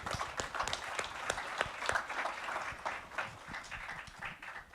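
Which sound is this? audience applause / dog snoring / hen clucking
audience applause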